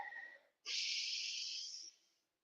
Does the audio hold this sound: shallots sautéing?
no